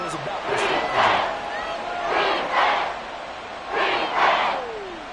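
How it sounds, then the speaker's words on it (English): Crowd in Madden 24 football game swelling and cheering in waves ahead of a big third down, broad roaring surges with a whistle-like tone, loud and continuous throughout. "the crowd getting into it as we come up on a big 3rd down"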